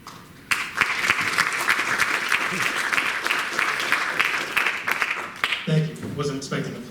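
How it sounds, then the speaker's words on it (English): Applause starts abruptly and continues as steady clapping from a crowd, fading as a voice begins speaking near the end. "Wasn't expecting applause, but it's much appreciated"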